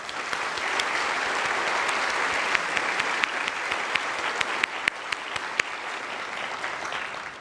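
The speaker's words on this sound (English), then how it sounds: "So I want to give a round of applause to Johnson here." Sustained audience applause in a hall at a NASA event at Johnson Space Center, steady and fairly loud for several seconds, with a few sharper individual claps standing out near the end.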